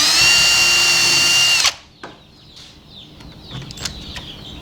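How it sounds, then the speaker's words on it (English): A power drill pre-drills holes in wooden trellis boards, its loud, steady whine running close by for about a second and a half before cutting off abruptly, leaving only faint scattered clatter. "to pre-drill 3 holes, one dead center of the edge board"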